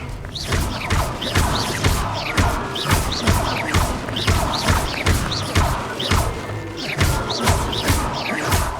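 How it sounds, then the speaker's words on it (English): Spell impacts in the video game Hogwarts Legacy come as repeated crashing whooshes and thuds in a busy, loud stream of combat effects, with no clear voices over them. "Young Jackdaw's no match for you. Incendio! Levioso!"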